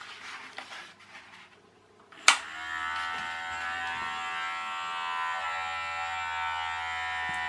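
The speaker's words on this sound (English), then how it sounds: "got our little paddle glued to the end of the vibrating toothbrush" Vibrating electric toothbrush with a paddle glued to its head switches on with a sharp click, then keeps up a steady, close, high buzzing hum with no talk over it.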